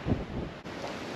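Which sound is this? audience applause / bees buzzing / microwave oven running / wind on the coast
wind on the coast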